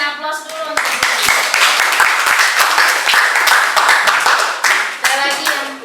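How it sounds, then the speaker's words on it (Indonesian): Classroom applause for a student, many hands clapping steadily and loudly together for several seconds, with a few children's voices mixed in. "Berikan aplaus dulu untuk Budi."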